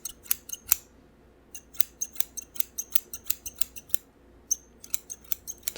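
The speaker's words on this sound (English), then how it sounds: "I get kind of messy when I cut hair." Scissors snip through hair in a barbershop, a steady series of crisp, close metallic clicks in irregular quick bursts, alone without talk.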